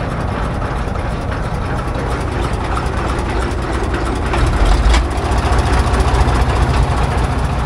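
A TD15 dozer engine idles, a loud, steady low-pitched rumble that swells slightly partway through and continues without a break.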